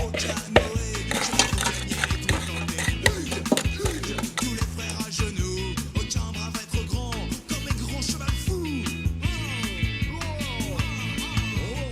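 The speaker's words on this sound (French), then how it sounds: "je mets mes fraises dans la casserole pour les faire fondre." Cut strawberries are tipped into a saucepan for jam, with repeated clinks and scrapes of a utensil against the metal pan, close and busy throughout.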